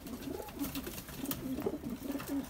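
Pigeons in an opened loft coo softly and repeatedly, low throaty phrases recurring in an uneven rhythm against faint background noise, with no talk.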